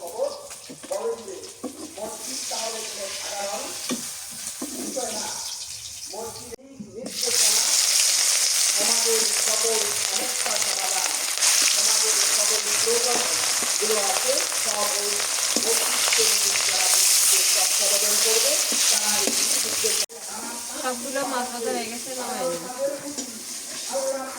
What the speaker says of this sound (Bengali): লাল লাল করে ভাজছি এরকম করে ভাজলে খাইতে মজা লাগে